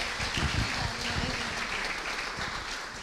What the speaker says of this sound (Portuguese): Quiserem aplaudir ao Senhor pela vida deles